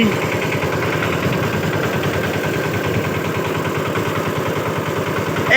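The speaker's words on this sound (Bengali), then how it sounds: "এই ইঞ্জিনের কাঁপে কাঁপে না আর কাঁপে না আওয়াজও তো ঠিকঠাকই আছে" A boat engine runs steadily nearby in the Sundarbans, a low, throbbing chug with a fast, even pulse and a faint rattle, continuing without a break.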